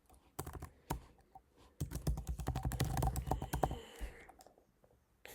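A password is typed on a computer keyboard in close, crisp bursts of keystrokes, with a few isolated taps first, then a dense rapid run, and a couple of final presses.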